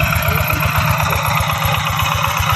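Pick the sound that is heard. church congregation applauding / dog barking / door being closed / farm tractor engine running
farm tractor engine running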